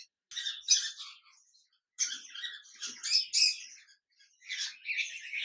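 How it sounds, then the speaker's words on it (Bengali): Lutino red-eye cockatiels, a large breeding pair, give bursts of shrill squawking calls from their cage, loud and close, with short pauses between the outbursts. "এখানে দেখতে পাচ্ছে লুটিনো রেড আই কোকাটেল পাখি রয়েছে"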